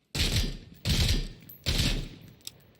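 G3 rifle fire in the video game Super People: three loud, separate bursts of rapid shots, each lasting about half a second, with a faint single shot at the end and no talking.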